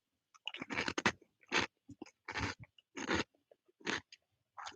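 A crunchy yellow corn snack with red stripes, made to look like bacon, is chewed close to the ear in repeated sharp crunching bites with short pauses between them.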